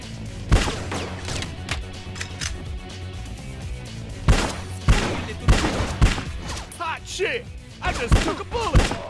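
Gunfire in the video game Bad Boys Miami Takedown: loud scattered shots and heavy thuds under a game soundtrack, with character voices talking between the bursts.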